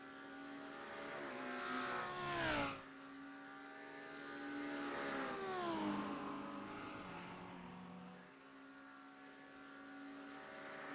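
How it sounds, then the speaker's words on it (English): GT3 race cars, including a McLaren, roar past in a racing championship, engines whining through gear shifts with rising and falling pitch as they sweep by, loud and continuous. "Ubertali continues to try to attack Thomas Wright in that 68 McLaren."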